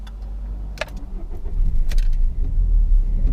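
A Renault Clio with a 1.5 diesel engine is started from inside the car: a brief key jingle and starter crank, then the engine catches and settles into a steady low diesel rumble, close and fairly loud.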